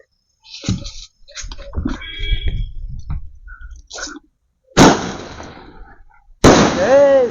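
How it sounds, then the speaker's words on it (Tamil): Two sharp, loud large sky rocket firework bursts ring out after scattered crackling and rustling, each blast trailing a crackling shower with a whistling tail. "அடுத்து இந்த பெரிய சைஸ் வானவெடி எப்படி இருக்குன்னு வச்சு பார்க்கலாம் வாங்க."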